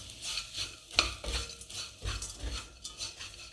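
Grated dry coconut stirred and roasted in a pan, with a steady scraping and rustling of the spoon and a soft sizzle, plus a sharp clink of utensil against the pan near the start.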